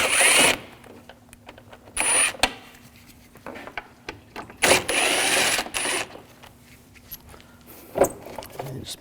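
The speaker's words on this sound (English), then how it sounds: "Take these screws out." Screws being removed with a T20 socket on a BMW 328i, heard as intermittent close metallic clicks, ratcheting and clinks in short bursts separated by quiet gaps.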